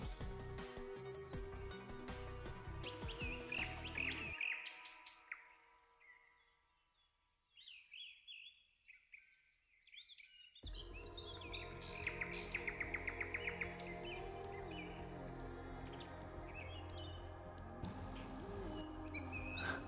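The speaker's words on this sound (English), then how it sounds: "The beautiful birds whose songs weave the fabric of the forest." Forest birds singing, with bright chirps and trills layered over each other, a dense chorus that drops to near quiet midway before resuming fuller and continuous.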